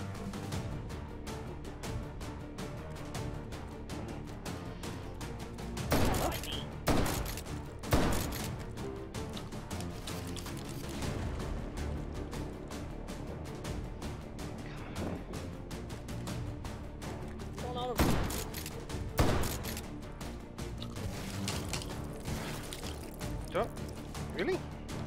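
Slam-fire gunshots in a video game ring out in scattered sharp bursts, a pair near the middle and another cluster later, over a steady bed of game music and ambience.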